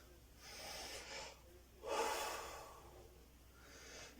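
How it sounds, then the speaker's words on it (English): Nose breathing during a yoga exercise: three slow, audible breaths drawn and pushed through the nostrils, the middle one strongest, close and alone with no talking. "Nose breathing for as far as you can manage it"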